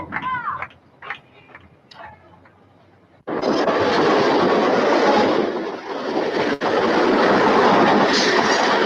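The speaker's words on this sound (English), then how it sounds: "The train from Manhattan to Malvern, Long Island, a typical commuter train town." A commuter train running on rails between Manhattan and Malverne, Long Island, roars in loud and close after a few seconds of quieter sound, then holds a steady rumble with clicking wheel noise.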